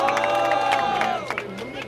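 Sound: rap battle crowd cheering and making noise for a contestant

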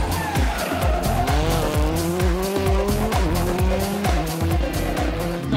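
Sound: DS3 WRC rally car skidding off the road

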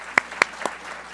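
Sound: audience applause at a luncheon

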